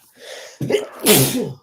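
A single loud, close sneeze bursts out alone, with a short breathy intake just before the sharp explosive release.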